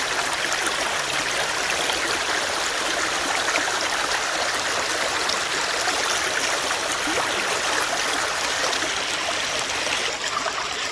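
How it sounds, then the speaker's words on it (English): A creek flowing on a sunny day, a steady, broad rushing and trickling of water that stays at an even level throughout, fairly close and with no voices. "Beautiful creek."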